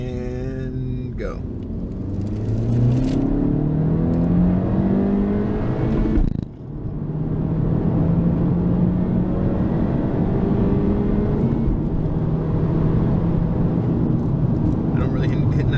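Car with a tuned turbo engine accelerating hard from low speed with traction control off, engine note rising through the gears with a sharp break at a shift, then climbing again under wind and road roar.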